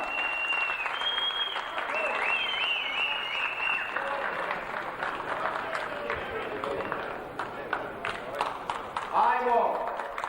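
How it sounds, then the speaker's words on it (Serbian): An awards-ceremony audience in Sombor applauds for an honoree, sustained crowd clapping that carries on steadily for several seconds, with whistle-like tones and voices mixed in and a louder burst near the end. "Sada aplauz za Batu Pikara"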